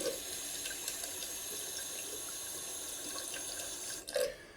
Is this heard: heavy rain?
no